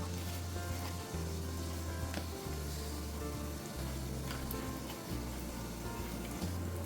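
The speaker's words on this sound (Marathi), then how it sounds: "आता ह्यामध्ये घालूया थोडी मोहरी, थोडा जिरा आणि थोडा हिंग." Mustard seeds, cumin and asafoetida sizzle hard in hot oil, a dense, continuous crackle up close with a low background hum, no talk.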